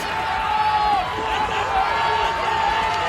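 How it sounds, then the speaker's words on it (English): Stadium crowd roaring at a men's 4x400m relay race in Tampere, a dense sustained cheer filling the stands under a commentator's voice. "Crowd in this stand in front of us absolutely roaring them on."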